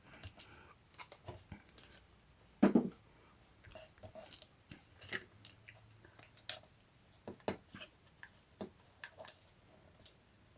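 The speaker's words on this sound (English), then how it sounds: "maybe I need to cut off a little bit from the frame, from the corner" Scissors snip a paper frame corner in a quiet crafting session, giving a series of short, close clicks and crisp cuts scattered over about ten seconds, with one louder snap near the start.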